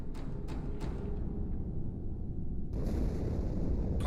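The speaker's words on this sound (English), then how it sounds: "Die Explosion kam aus dem Innern der Athen, genau wie bei der Malta." Deep booming blast aboard the ship Athens in Halo 2, a low rumbling roar with a few sharp cracks early on, then a sustained heavy rumble.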